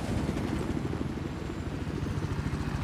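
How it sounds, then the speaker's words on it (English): Helicopter in the video game Battlefield 4 over Shanghai, a close, loud rotor thump with a rapid, even beat and a constant engine drone underneath. "Enemy helicopters, though."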